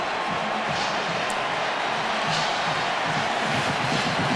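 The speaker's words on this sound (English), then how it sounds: "Now you're hearing the USC crowd because the Michigan crowd has been silenced" Football crowd roaring at the Rose Bowl, USC fans cheering during the 2007 Michigan vs USC game, a dense, steady wash of stadium noise with no clear breaks.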